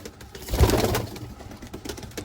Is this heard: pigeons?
yes